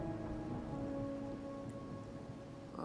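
Steady rain and a low rumble of thunder from a storm scene in the game Wuthering Waves, a dense continuous hiss filling the clip without any voices, with a brief soft chime near the end.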